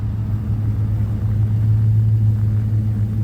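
A parked car idles in minus 27 degree cold, its engine a steady low rumble close by, droning evenly with no voices over it.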